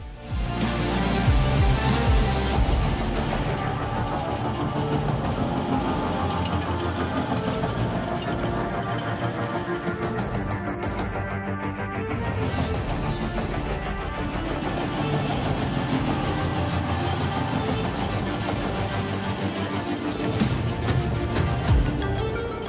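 A Fendt 942 Vario tractor pulling a Horsch disc harrow across a field gives a steady, heavy engine drone with a rumbling working undertone, continuous and fairly close for the whole stretch.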